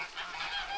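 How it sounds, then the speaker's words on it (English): Homestead geese honk continuously at close range, a brief noisy chorus of overlapping calls. "Oh, the geese want out."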